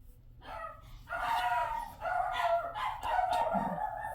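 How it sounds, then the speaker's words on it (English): A dog barks repeatedly in short bursts, somewhat distant and muffled, with no other sounds around it. "I apologize for that barking."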